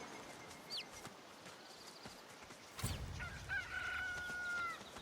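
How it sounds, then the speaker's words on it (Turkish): A rooster crows in a long drawn-out call over a steady outdoor ambience, with a few bird chirps and a soft thud just before it, in the video game Divinity: Original Sin 2. "Aha horozumuz ötüyor."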